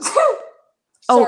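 A single sharp human sneeze bursts out up close, followed after a short pause by a person speaking briefly.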